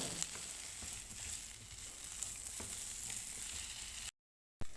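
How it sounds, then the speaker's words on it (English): Vegetables and chicken sizzle steadily in a hot pan while being stirred, a continuous close frying hiss with light scraping, cutting off abruptly near the end. "Cook the veggie for about 4 to 5 minutes and stir them frequently."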